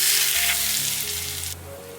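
Hot oil poured into a bowl of chopped sand ginger and chili rings for a dipping sauce, giving a loud, steady close sizzle that eases off slightly toward the end.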